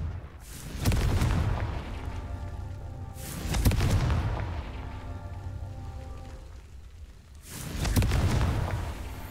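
Confringo blasting spell explosions in Hogwarts Legacy go off three times with evenly spaced gaps, each a loud booming blast that decays into a rumbling tail.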